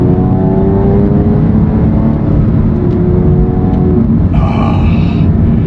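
A 997 Porsche 911 Carrera S, a naturally aspirated car with a sport exhaust, revs hard on throttle, its engine note rising and falling with a brief higher-pitched flare near the end.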